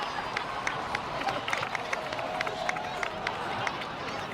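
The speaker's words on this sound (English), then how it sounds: "please give another round of applause for them" Crowd applause for heroes in a video game, a continuous patter of many hands clapping with scattered cheers at moderate volume, without speech over it.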